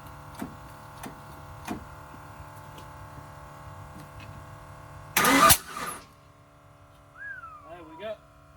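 A car engine on its first start attempt, low on fuel and with timing issues, gives a few ticking clicks, then one loud, rough burst that quickly dies away, followed by quieter sounds and voices.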